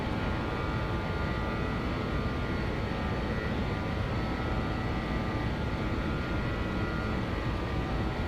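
Steady engine drone of a BAe 146 airliner in the X-Plane 11 flight simulator, a continuous even roar with no variation and no talking.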